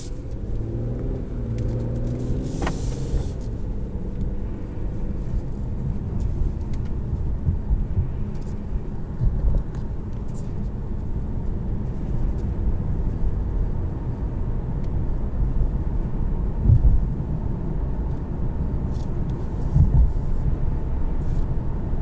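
A 2022 Infiniti Q50 with a seven-speed torque-converter automatic drives along, its engine and road noise forming a continuous low rumble heard from inside the cabin, with occasional faint clicks and thumps.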